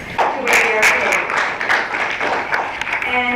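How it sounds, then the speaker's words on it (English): An audience at an event in Uganda breaks into applause, with sharp claps scattered through the sound. Voices talk over the clapping, and it stays fairly loud throughout. "if you can give yourselves a round of applause"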